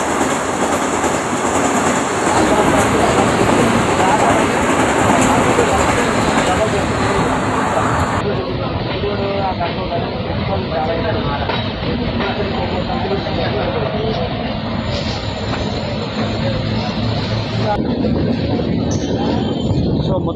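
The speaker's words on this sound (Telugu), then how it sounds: "సో మొత్తానికి అయితే ట్రైన్ మహబూబా స్టేషన్ అయితే క్రాస్ అయిపోయింది ఫ్రెండ్స్." The Golconda Express passes Mahabubabad station with a loud, continuous roar of carriages and rhythmic wheel clatter on the rails that stays close and heavy for the whole stretch.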